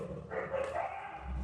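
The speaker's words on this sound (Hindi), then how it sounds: "कुत्ते भौंक रहे हैं" Dogs bark outside during an online class, a continuous jumble of barking and yipping sounding fairly close, with no speech over it.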